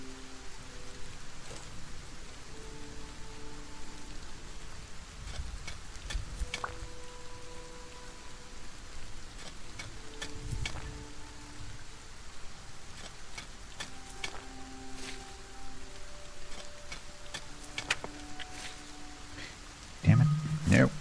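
Rain falls in the video game Solarpunk, a soft, even wash of droplets running throughout, with sparse clicks, short tonal game cues and a sharper noise burst near the end.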